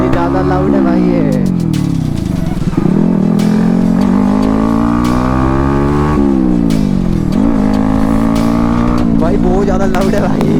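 A Yamaha R15 motorcycle with its exhaust cut off runs very loud and raw, its engine revving up and dropping back in repeated swells close by, with people talking over it.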